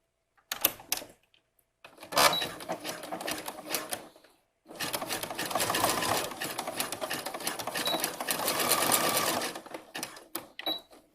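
Sewing machine stitching a wide zigzag onto elastic with a stretch needle and white thread, in bursts of rapid mechanical whirring separated by short pauses.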